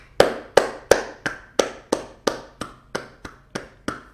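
A single person clapping their hands slowly, about a dozen sharp, close claps in an even rhythm that gradually softens, alone with no talk.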